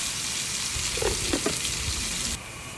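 Homegrown eggplant sautéing in a pan, giving a continuous bright sizzle with a few soft stirring scrapes near the middle, close and fairly loud, with no talking.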